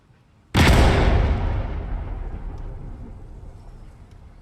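A single loud gunshot fired at an all-ways fuze, a sharp broadband blast with a long rumbling decay rolling out over several seconds, alone with no talk.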